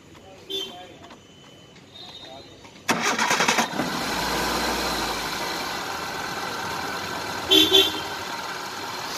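A diesel car engine cranks and catches partway through, then settles into a loud, steady running rumble. Quieter sounds come before it starts.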